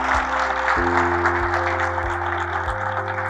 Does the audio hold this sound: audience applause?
yes